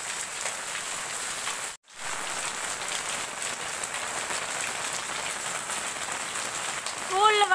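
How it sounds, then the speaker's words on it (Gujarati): Heavy rain pours steadily over a village in Kutch, a dense, even hiss that drops out for a moment before resuming. A brief voice rises near the end. "જોવો ફૂલ વરસાદ આવી રહ્યો છે મારા ગામમાં"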